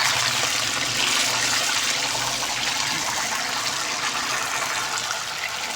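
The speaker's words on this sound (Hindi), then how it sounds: "ये देखिए बस आपने बहुत एहतियात से पानी डालना है" A continuous rushing, hissing pour of water into a hot pan of semolina (soji) halwa, loud and close, with a steady sizzling wash throughout.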